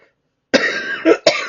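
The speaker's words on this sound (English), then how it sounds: "I've been coughing my head off." Three quick, harsh coughs in close succession after a brief silence, loud and near.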